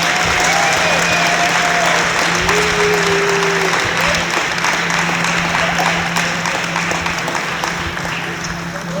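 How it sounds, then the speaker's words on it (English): A packed gym crowd at a pep rally for the 2019 state champion Marshal girls claps and cheers loudly and continuously, with whistles and shouts rising over the dense applause. "So one last round of applause for these girls."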